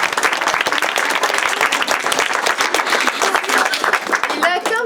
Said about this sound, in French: Applaudissons-les bien fort.